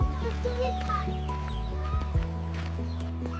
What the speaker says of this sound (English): Listen to the loud songs. The birds are singing happily.